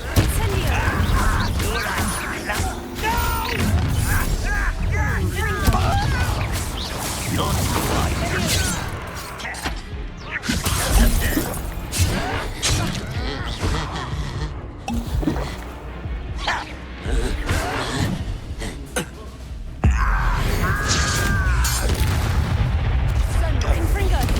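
A Confringo blasting spell from Hogwarts Legacy erupts in repeated deep booms and crackling blasts, loud and dense throughout, with scattered impacts and debris clatter between the heavier hits.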